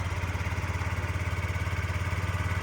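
A Yamaha BWS 49 fuel-injected four-stroke scooter engine idles steadily nearby, a low rhythmic putter with a faint mechanical clatter and no voices.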